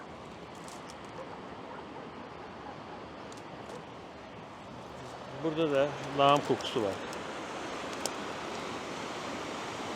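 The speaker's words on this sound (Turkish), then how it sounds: "karşıdan gelen Ankara çayı" The Ankara Stream runs through a diverted city channel with a steady, broad rush of flowing water filling the whole stretch, and someone speaks briefly partway through.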